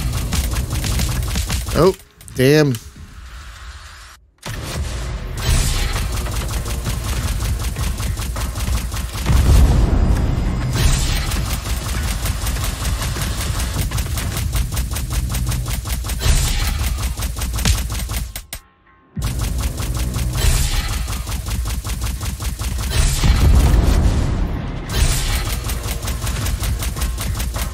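Automated turrets fire in a video game, a dense stream of rapid rattling shots and booms running nearly throughout, with brief pauses, while a voice talks over the action.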